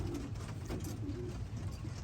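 Soft, low pigeon coos repeat in gentle rolling phrases against a steady background hum, fairly close and moderately quiet.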